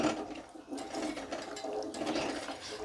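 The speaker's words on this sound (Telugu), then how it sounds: "ఈ నల్లేరుని క్లీన్ చేసుకోవాలి కొంచెం కూడా మట్టి లేకుండా నీట్గా వాష్ చేసుకోవాలి" Nalleru greens being rinsed and rubbed clean in water, giving a steady, close splashing and swishing that runs throughout with no talking.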